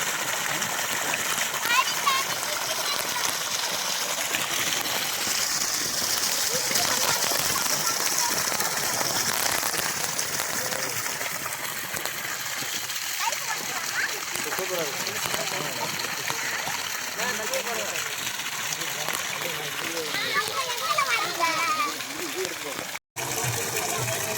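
Water gushes steadily from a solar-powered water pump, a continuous broadband splashing rush that runs loud and near for the whole stretch, with people talking over it.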